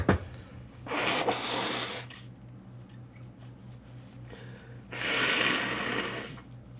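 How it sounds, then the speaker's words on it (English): Two loud, breathy bursts of nose blowing, a couple of seconds apart and close by, over a steady low hum. "I gotta blow my nose again"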